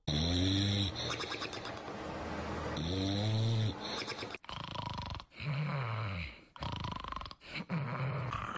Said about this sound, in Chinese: 第一，打呼噜。